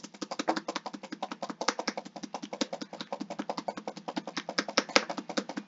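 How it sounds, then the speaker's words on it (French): Fast, steady tapping on a computer keyboard, with dozens of crisp individual keystrokes in quick succession at close range and no voices. "Si vous m'entendez comment je tape, vous allez voir comment c'est difficile."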